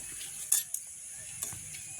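Buttermilk chillies fry in hot oil in an outdoor village kitchen. Soft sizzling runs underneath a few faint clinks and scrapes of a utensil stirring, all quiet and close.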